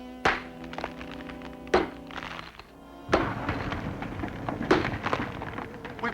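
A pick strikes a hollow-sounding rock wall in a 1958 monster film, several heavy thunks spaced a second or so apart, close and loud, the later blows followed by crumbling debris.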